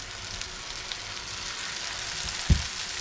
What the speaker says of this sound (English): we are frying up some butter and garlic.